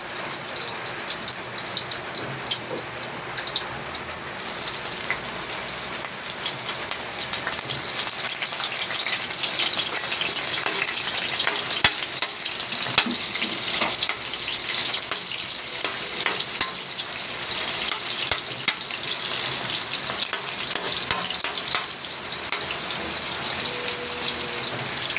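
Chopped onions fry in a pan for chicken adobo in coconut milk, giving a steady, close, loud sizzle with occasional scraping stirs. The sizzle runs continuously, with no voices.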